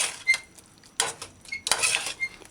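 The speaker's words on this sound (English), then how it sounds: "Stir it in a few times, gently." A utensil stirs ketchup into cabbage stew in a pan, giving a few separate scraping, clinking strokes against the metal, near and fairly loud, with short quiet gaps between them.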